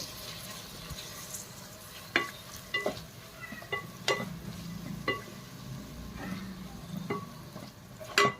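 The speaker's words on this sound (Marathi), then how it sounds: "तर आता टमाटर सुद्धा आहे ना याच्यामध्ये आपल्याला चांगले फ्राय करून घ्यायचे आहेत." Chopped tomatoes fry in a pan for paneer biryani, a soft continuous sizzle broken by sharp spatula scrapes and taps against the pan every second or so.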